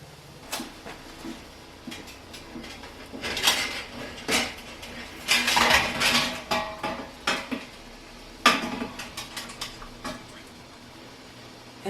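A lid is lifted off a metal water-bath canning pot holding jars of maple bourbon pecan pie filling, giving several close metallic clanks and scrapes with a louder clatter midway and a sharp knock near the end.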